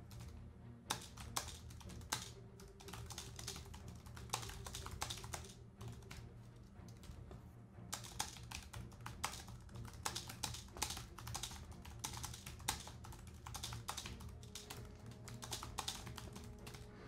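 Fast bursts of typing on a computer keyboard, with quiet clicking keystrokes in uneven runs and short pauses throughout.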